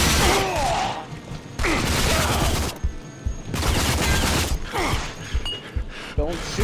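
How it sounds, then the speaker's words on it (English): Bursts of rapid gunfire in the video game Rage crack out in several loud volleys separated by short pauses, with mechanical clatter between them. "Don't shoot the bottles!"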